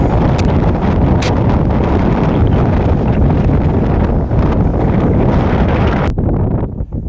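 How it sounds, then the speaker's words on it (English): Heavy wind buffets the microphone in a loud, continuous roar of low rumbling noise, with a few brief gusts and knocks and no voices. "I think the wind's just going to be too much on the camera."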